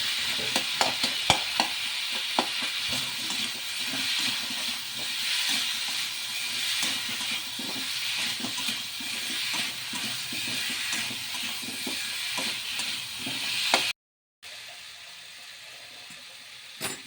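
Potato curry is sautéed and stirred in a pan, a steady close hiss of frying broken by rapid scraping and clattering of the stirring spoon, then an abrupt cut before fainter sizzling resumes.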